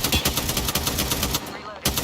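Rapid automatic gunfire in Apex Legends, a steady stream of loud close shots in quick rhythm that cuts off near the end before a final burst.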